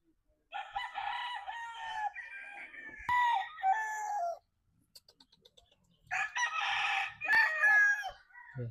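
Gamefowl roosters crow close by in about three long, clear calls separated by brief quiet gaps, with no other sound competing.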